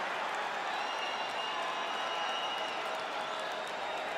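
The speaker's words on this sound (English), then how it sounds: "So the crowd voicing its appreciation after that round." A crowd applauds after a round in the EA Sports UFC 5 video game, a steady, even wash of clapping and murmur held at a constant moderate level throughout, with no commentary over it.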